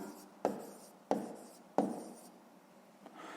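A pen writes on paper during a math lesson, giving three sharp, close scratchy strokes in quick succession, each trailing off, then a fainter fourth stroke.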